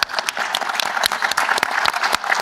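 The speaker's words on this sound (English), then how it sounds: "Give me a good little clap." A crowd applauds with dense, brisk clapping that holds steady throughout, with no voices standing out.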